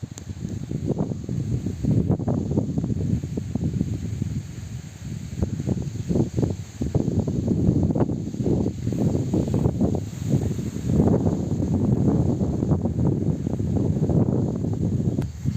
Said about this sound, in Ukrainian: Хочу, щоб ви послухали вітер.